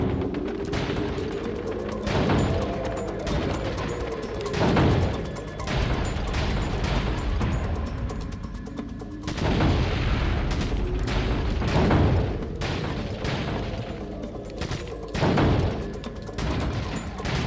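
Gunfire at a target practice range in Resident Evil 4, loud individual shots and booms repeating every second or two, with a steady background of game ambience between them.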